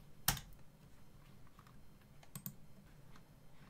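A few sparse keystrokes on a computer keyboard: one sharp tap near the start, then a short cluster of clicks, with quiet room tone between.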